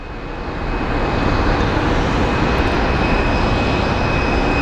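A jet airliner roars near the runway at Phoenix Sky Harbor airport, a loud broadband engine rumble swelling in the first second and then holding steady and close, with no talk.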